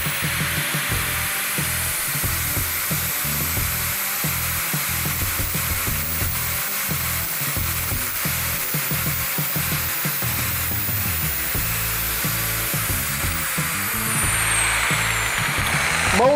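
A power tool with an abrasive disc sands porcelain tile, giving a steady whining grind with repeated short pauses and changes in pitch as it bites the surface, close and continuous, with no voices.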